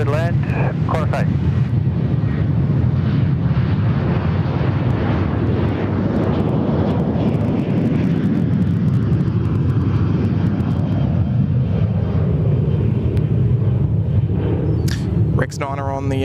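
A Qantas airliner comes in to land at Sydney Airport, a loud, sustained jet engine roar mixed with wind buffeting on the microphone that slowly fades toward the end, with voices talking over it.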